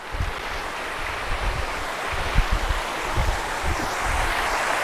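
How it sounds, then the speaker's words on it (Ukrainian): Small waterfall on a forest trail in the Carpathian mountains, a steady broadband rush of falling water with slight surges, close and continuous with some wind buffeting, no talk. "А ось і водоспадик цей мацьонький."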